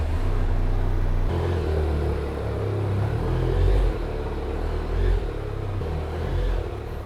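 A Benelli TRK 502 motorcycle pulls away, its engine rumbling low and steady, close and fairly loud, with a few throttle swells as it rides off.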